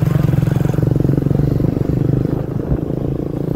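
A motorbike engine runs steadily up close with a rapid, even putter throughout, some rattling clatter mixed in as it rides along without pause.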